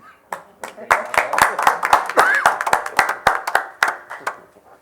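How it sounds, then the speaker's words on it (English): Town board meeting attendees clap together in a room after a resolution is adopted, with a handful of distinct, irregular hand claps close by, rising and then tapering off, and some voices murmuring underneath. "Can we all applaud together?"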